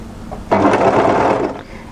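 A sewing machine stitches a couple of tacking stitches on a stretch dolman batwing top, a short loud whirring burst of about a second that starts abruptly and fades out, with no one talking.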